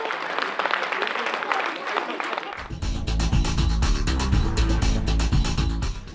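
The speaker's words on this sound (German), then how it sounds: "Mit lang anhaltendem Applaus bedankte sich das Publikum bei den jungen Schauspielern." A theatre audience applauds the young actors at length, with dense, steady clapping that swells and carries on throughout, loud and close, with no voices over it.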